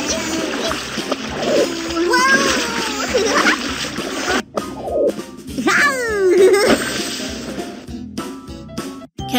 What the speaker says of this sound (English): Captain Kiki, all our stuff fell into the water.